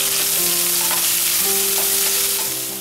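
Green chilies, chopped onion and curry leaves fry in hot oil with a steady, close sizzle that holds throughout, with a faint tonal hum behind it.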